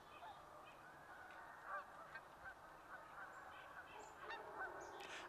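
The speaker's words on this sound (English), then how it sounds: "I hear a Canada goose in the background. I hear a chickadee." Canada goose honking outdoors, repeated calls at moderate distance over a steady natural background; a chickadee is not clearly distinguishable.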